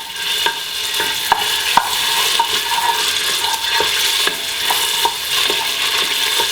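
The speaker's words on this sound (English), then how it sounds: "the oil is hot. Let's add this there's 2 tablespoons of tomato paste here." Two tablespoons of tomato paste fry in hot oil in a large pot, a steady close sizzle broken by regular light scrapes and clicks of a utensil stirring against the pot.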